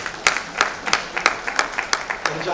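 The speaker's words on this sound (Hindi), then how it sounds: "तालियां हो जाए।" Audience clapping at the grand finale of a Mrs India beauty pageant, a loud, rhythmic run of claps in a steady even beat, sharp and close.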